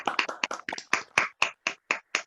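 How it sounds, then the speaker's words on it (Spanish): Applause for a newly graduated master in entomology after a thesis defense, heard as a short burst of hand clapping that begins dense and settles into a string of distinct, evenly spaced claps close to the microphone. "darle un fuerte aplauso al flamante magíster"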